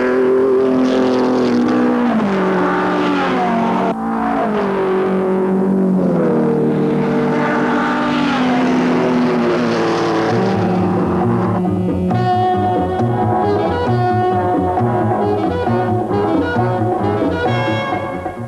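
Latest-model Italian racing cars roar around a circuit, loud engines screaming and shifting pitch as they pass close by, one after another in a continuous, aggressive stream with no talk.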